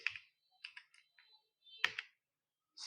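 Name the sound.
typing keywords on a computer keyboard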